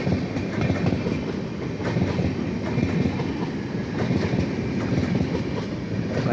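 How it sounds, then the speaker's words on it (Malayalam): The Thiruvananthapuram–New Delhi Kerala Express passes on an Indian railway line heading toward Kottayam, with steady rolling rumble and repeated rhythmic wheel clicks over rail joints, loud and continuous throughout. "കന്യാകുമാരി പൂനെ എക്സ്പ്രസ് കടന്നുപോയ അതേ ഡയറക്ഷനിലേക്ക് തിരുവനന്തപുരം ന്യൂഡൽഹി കേരള എക്സ്പ്രസ്സും കോട്ടയത്തേക്ക് കടന്നു പോവുകയാണ്"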